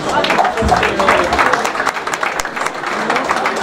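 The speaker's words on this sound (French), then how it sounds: "Vous pouvez regagner la salle sous les applaudissements." A hall crowd at a trail running awards ceremony applauds the 15 km category winners, with brisk close clapping mixed with murmuring voices throughout.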